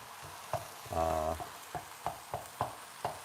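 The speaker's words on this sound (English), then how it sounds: "Apologies for this noise, it's just the cooking." Quiet sizzling of food frying in a pan, with soft rhythmic clicks and a brief tonal clatter near the start.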